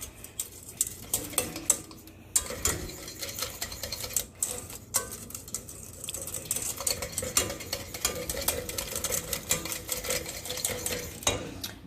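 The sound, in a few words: stirring mole sauce in a pan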